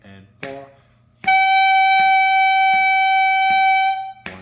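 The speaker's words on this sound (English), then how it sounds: "I'm going to play a reed instrument for this" A reed instrument holds one long, steady, loud tone for about three seconds as part of a beginner wind lesson, with a short spoken count before it and a voice returning at the end.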